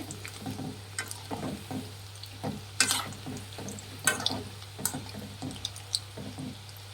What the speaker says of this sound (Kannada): ನೋಡಿ ಫ್ರೆಂಡ್ಸ್, ಈ ರೀತಿ ಕರ್ಕೊಬೇಕಾಗುತ್ತೆ ಎಣ್ಣೆಯಲ್ಲಿ.